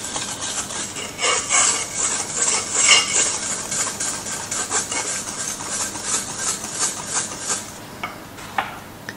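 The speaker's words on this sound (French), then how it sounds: "Je continue de mélanger au fouet." Whisk scraping and rubbing through sugar and dry cake flour in a mixing bowl, a steady rhythmic scratching and clinking that runs for several seconds before easing off, close and alone without talk.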